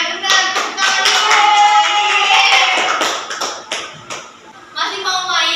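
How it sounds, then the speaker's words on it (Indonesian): Fourth-grade schoolchildren in a classroom clap their hands in quick, patterned rhythmic bursts, close and lively, with voices mixed in among the clapping. "Tepuk tangan dulu."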